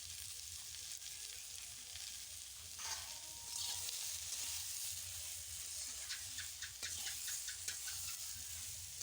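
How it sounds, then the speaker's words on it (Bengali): Fish curry with ridge gourd sizzles and fries in a pan as turmeric and salt are stirred in, a constant hiss with scraping stirring strokes near the middle and a burst of quick taps toward the end. "একটুখানি নেড়ে নিলাম।"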